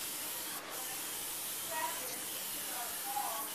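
An aerosol spray coats a Coleman 220 lantern with green paint in steady, close hissing bursts, soft but clear, with faint background noise.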